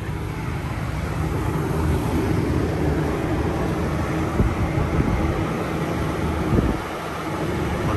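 A camper air conditioner runs steadily off a Predator 3500 W inverter generator, giving a continuous broad droning hum with a low engine rumble that stays even throughout, close by and with no talking.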